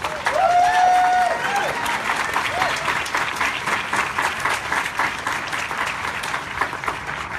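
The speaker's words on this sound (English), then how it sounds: "please give a loud Ferndale round of applause" A crowd at a vigil applauds steadily throughout, dense clapping sustained at an even level, with a brief whistle-like tone near the start.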